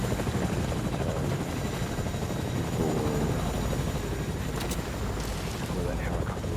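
Helicopter rotor drone in the Fortnite video game, a steady continuous whir holding at moderate loudness throughout, with some faint background noise.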